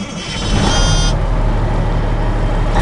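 A sprayer truck engine starting up, cranking briefly then settling into a loud, close, steady rumbling idle.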